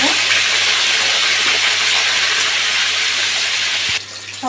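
Fish pieces sizzling in hot oil in a pan, a loud, steady close hiss that runs unbroken for several seconds and then drops off sharply near the end, with no voices.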